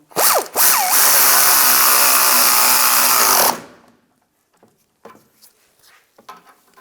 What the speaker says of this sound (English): put the nut on, using a 19mm socket, tighten this down.